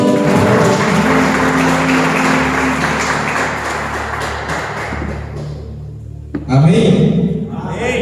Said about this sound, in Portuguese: Bata palmas para o Senhor